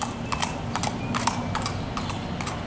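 A show horse of the moro coloring walks on a hard surface, its hooves making steady, evenly spaced clip-clops that sound close and clear, with no talking.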